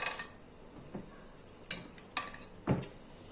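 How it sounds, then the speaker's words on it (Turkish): A spoon drags and taps against a baking dish while spreading sauce over oven-baked sea bass, giving a few light scrapes and clinks, close and fairly quiet, spaced out with no talk. "Bir kaşık alarak şöyle sosumuzu balığımızın üzerine gezdiriyoruz."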